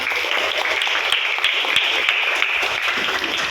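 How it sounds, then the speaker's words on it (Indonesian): Participants in a classroom give a round of applause, an even patter of many hands clapping at moderate loudness, steady for a few seconds with no talking over it. "Mari kita kasih aplaus untuk kita semua"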